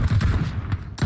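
Gunshots in the PUBG Mobile video game ring out in a quick, evenly spaced burst of loud, close shots.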